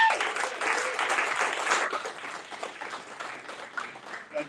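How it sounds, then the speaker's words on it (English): Applause from an audience at a gathering with the Electrical Association of Philadelphia, starting strong and then thinning into scattered claps over a few seconds. "Can you guys give a big round of applause for us?"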